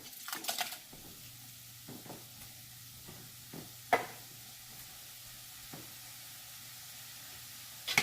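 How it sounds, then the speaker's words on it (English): Ground beef and diced tomatoes being stirred in a pot of chili, a few soft scraping and knocking strokes of a spoon against the pot over a low simmering background hiss, fairly quiet and close. "Give it a stir."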